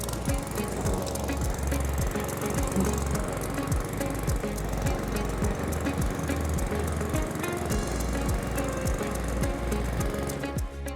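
A Cobra M40CVX petrol lawnmower engine runs loud and close, a steady rapid chugging rumble with regular pulsing beats that holds throughout without pause.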